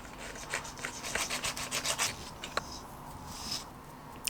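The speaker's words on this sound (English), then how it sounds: "So lots of sandpaper," A beginner's bulldog pendant carved in wax is rubbed with sandpaper and files, making quick scratchy back-and-forth strokes close by that slow to a few scattered scrapes, with no speech.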